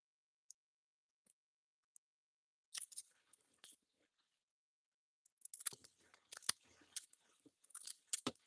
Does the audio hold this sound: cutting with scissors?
yes